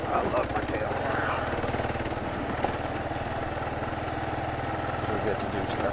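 A Kawasaki KLR motorcycle engine drones steadily and close while riding over rocks and loose sand, a continuous pulsing mid-pitched rumble with the rider talking over it.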